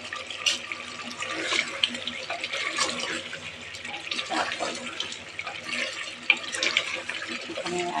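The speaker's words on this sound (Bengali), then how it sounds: "তারপরে গরম পানি দিয়ে দিই।" Hot water poured into a beef and split chickpea curry cooking in a pot, a soft, low-level splashing and trickling with small clinks and bumps scattered throughout.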